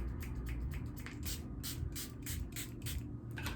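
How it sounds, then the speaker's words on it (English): Vitamin C facial mist bottle sprayed repeatedly in a series of short, hissing bursts at close range, with quieter handling rustle between pumps. "So friggin' spray the crap out of your face."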